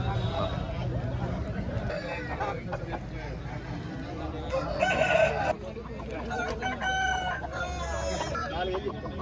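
Roosters at a cockerel market in Golalla Mamidada crow repeatedly amid clucking fowl, with loud nearby talk running over a busy crowd.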